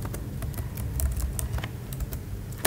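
Computer keyboard typing code, a quick irregular patter of close key clicks with one louder tap near the end, no voices.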